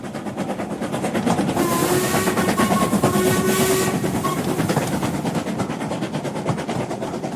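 A train runs on rails, with a steady rumble and rhythmic clickety-clack rising to a peak midway before easing off, and a faint whistle-like tone drifts over the middle.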